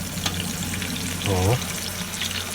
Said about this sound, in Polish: Rybka się nam tutaj smaży już.